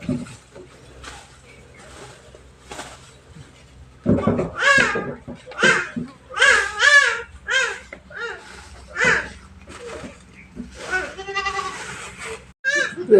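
A young goat bleats repeatedly in loud, wavering cries, with quiet low background hum and a few softer sounds before the calls begin.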